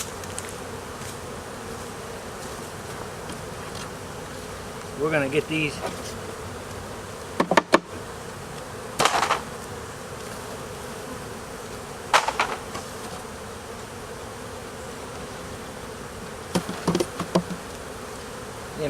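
Honeybees from a hive being relocated buzz continuously nearby, a dense insect hum broken by a few knocks and clunks of equipment, while a person speaks briefly.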